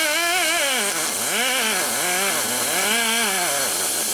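An aggressive rotary tool bit blends the engine case of a 1948 Harley panhead 74ci motor. It gives a continuous high-pitched whine whose pitch dips and rises repeatedly as it bears down and eases off, close and loud.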